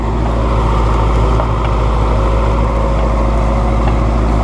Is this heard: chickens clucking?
no